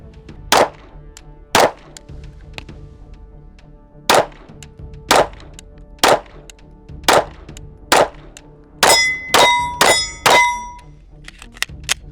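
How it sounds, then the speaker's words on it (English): Canik TTI Combat pistol being fired at steel targets outdoors: a series of sharp, loud shots spaced about a second apart, then a quicker burst, with bright metallic rings from the steel after the last shots. "So we're gonna zero this gun real quick, shoot these 2 first mags"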